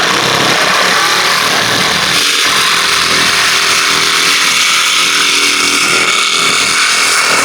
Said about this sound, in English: So we're going to be using our Milwaukee hacksaw.